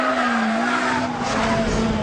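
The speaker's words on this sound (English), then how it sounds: "This is what I call mechanical music, none of those twittering turbos or whining superchargers. This is a real engine." High-revving naturally aspirated engine of a car at speed in a 2002 hot hatch comparison with a Focus RS Mk1, Civic Type R and Leon Cupra R. A steady, loud, sustained mechanical drone is heard from onboard, with no talking.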